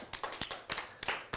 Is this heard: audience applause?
yes